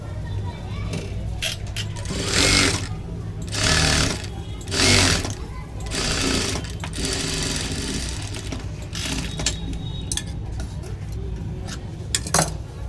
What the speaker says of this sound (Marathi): याला आता आपण पाच नंबर शिलाई मारून घेणार आहे